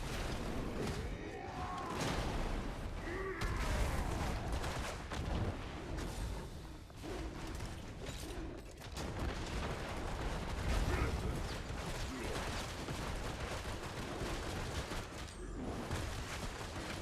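Rocket and gun fire from a Deadeye class character in a video game: dense, continuous bursts of firing and explosive thumps with mechanical clatter, fairly loud, with no pauses throughout.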